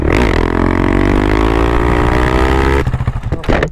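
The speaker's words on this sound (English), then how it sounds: "I just gotta do one more wheelie before I hand it over." KTM Duke 390 motorcycle engine revving hard and climbing steadily in pitch during a wheelie, loud and close, then cutting off sharply near the end with a brief sputtering rev afterward.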